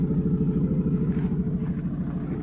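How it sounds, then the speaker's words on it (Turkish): A 2020 Audi SQ5 Quattro with a 3.0-litre V6 mild-hybrid diesel idling nearby, a steady low rumbling throb with a regular pulsing beat, no talk. "Motor sesi müthiş yani."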